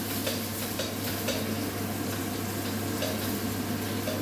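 Onions stirred in melted butter in a pan, a steady soft sizzle with faint scraping of the spoon, close and quiet, with no talk.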